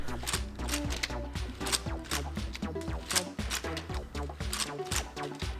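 An upgraded LEGO machine runs with clattering plastic gears and ratcheting mechanisms, a steady rapid rhythm of clicks and knocks close up, with no talk.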